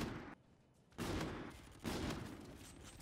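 Gunfire from a sniper rifle in the video game Infinite Warfare: loud broadband bursts, one sharp report near the start and two more heavy shots about a second apart, each with a lingering crackling tail.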